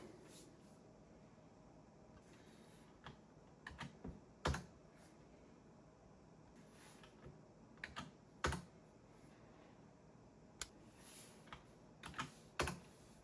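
Clusters of keystrokes on a computer keyboard as search queries are typed, quiet close taps in short bursts separated by pauses, with a couple of sharper key presses standing out, no speech.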